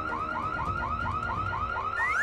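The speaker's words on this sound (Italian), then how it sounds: "L'allarme è scattato qui." A close, loud alarm wails in rapid repeating up-sweeping whoops, continuous and steady with no voices over it.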